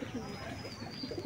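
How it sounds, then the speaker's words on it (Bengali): Giribaz high-flying pigeons cooing, soft low repeated coos close by over a quiet background. "তো বন্ধুরা দেখতে পাচ্ছ এখানে উড়ছে সব পায়রাই।"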